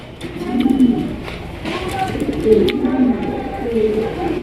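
Pigeons, including a black pomeranian pouter, coo in soft, low, repeated rolling calls, close by, with faint rustling and distant chirps in the background.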